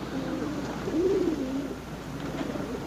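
Pigeons coo in soft, low, warbling calls, one clear rolling coo standing out in the middle against a steady background hum.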